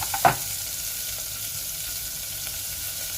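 Cumin seeds, onion and slit green chillies fry in hot ghee, a steady soft sizzle with one brief clatter near the start, no speech.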